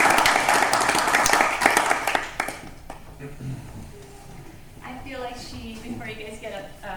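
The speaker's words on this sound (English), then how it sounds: "she deserves another round of applause" An audience at a curator's talk on Oscar Bluemner claps for about two seconds. The applause then fades into quieter room sounds and distant talk.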